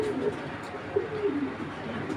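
A pair of racing pigeons coos softly and repeatedly at close range, with low, throaty calls rising over a steady background hum.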